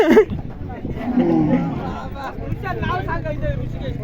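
Bulls at a bullock cart and horse race ground in Maharashtra, a low moo-like call rising near the start over a steady crowd hubbub, with people talking throughout.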